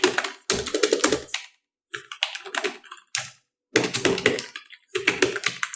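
Someone types HTML code into Notepad++ on a computer keyboard, with close, dense bursts of rapid key taps broken by short pauses.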